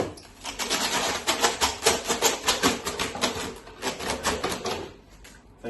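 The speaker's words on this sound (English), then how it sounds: "I'm having trouble with this plastic wrap." Plastic wrap being handled and pulled in the kitchen before cooking, a run of close, rapid crinkling and crackling bursts that fade out near the end.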